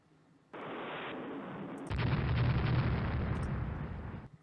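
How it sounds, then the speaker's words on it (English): Naval guns fire in a Rule the Waves battle, heard as a sustained rumbling roar that swells louder midway and holds for several seconds before cutting off. "We're all just shooting guns at each other now."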